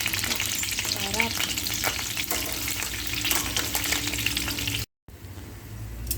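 Lechon kawali pork frying in a pan gives a loud, constant crackling sizzle with occasional stirring clatter and a short drop-out near the end, no talking.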